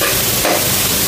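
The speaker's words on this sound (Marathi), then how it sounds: "जरा तापलं की त्याच्यामध्ये आपण कांदा घालूया." Chopped onions drop into hot oil for stuffed chimborya crabs and set off a dense, close sizzle. The frying hiss stays loud and steady for about a second, with no voices.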